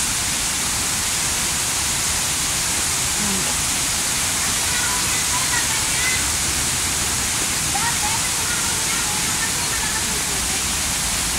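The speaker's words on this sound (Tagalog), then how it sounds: "Ang lakas ng falls." A powerful, deep waterfall at a falls in Kabankalan City, Philippines, roaring as a loud, constant wash of noise that fills the whole scene without letup.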